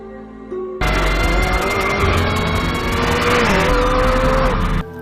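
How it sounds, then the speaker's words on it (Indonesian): A McLaren speeds through a car chase in the 2021 film Jolt: engine roar bursts in abruptly and holds loud and close, its pitch wavering with throttle and passing traffic, then cuts off sharply near the end. "Lindy menggunakan mobil McLaren milik Justin untuk lepas dari kejaran Vickers dan Nevin."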